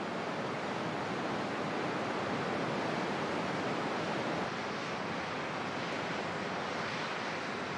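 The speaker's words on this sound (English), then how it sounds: "Even right at the bottom of the waterfall, there's nothing but drizzle." Fine drizzle at the foot of Angel Falls makes a continuous, even rushing hiss with no breaks, moderately loud and enveloping, with a faint windy edge.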